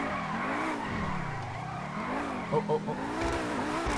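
A Lamborghini Sian supercar in GTA 5 revs and slides, its engine note rising and falling under a short tire squeal, while someone talks over it.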